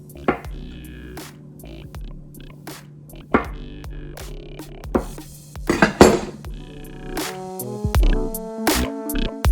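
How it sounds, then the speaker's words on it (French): Knife blade tapping and clicking against a cutting board while hard-boiled eggs are sliced for a salmon salad, a string of sharp, close knocks and clinks over a low steady hum, with no talk. "On va découper nos œufs"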